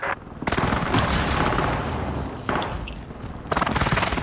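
Video game airstrike, with heavy booming explosions and rapid gunfire in dense, loud bursts that rise and fall, and no clear talk.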